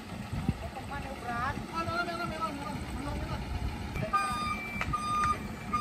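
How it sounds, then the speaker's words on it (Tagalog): A large truck reverses on a narrow road, its backup alarm beeping in a repeated rhythm close by while people talk over the engine noise. "Malaki pala yung truck eh."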